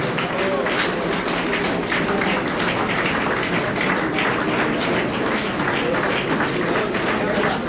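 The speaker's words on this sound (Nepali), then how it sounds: "ताली चाहिँ अलिक कम्ती भए जस्तो छ" Audience applause at a church silver jubilee program held by an eastern Morang Christian community: steady, dense clapping from a crowd, fairly loud and sustained throughout, with a voice speaking over it.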